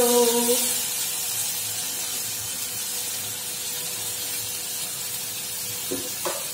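Dried fish chutney paste hits a hot pan with a broad, steady sizzle and hiss, joined by a few soft stirring scrapes near the end.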